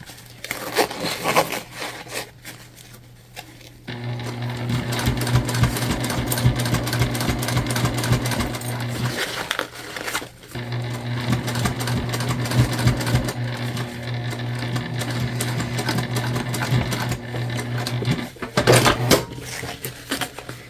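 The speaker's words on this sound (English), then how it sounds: "you just sew this 1/8 of an inch away from the edge" A sewing machine stitches a bag seam an eighth of an inch from the edge in two long, steady runs of rapid, loud mechanical stitching, with brief pauses and handling noise between them.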